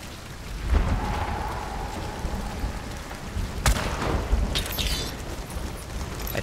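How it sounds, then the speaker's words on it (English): Steady heavy rain hisses throughout in the video game Hunt: Showdown while deep thunder rumbles and cracks, with a sharp clap near the middle. "With all of the rain, it's hard to tell where anyone's at."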